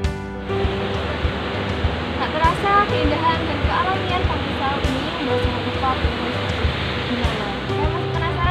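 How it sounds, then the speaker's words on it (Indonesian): Sea waves at Srau beach roll and wash onto the shore in a continuous rushing surf, with sea wind blowing and a low rumble beneath, under a person talking. "menikmati hembusan angin laut dan alunan deburan ombak"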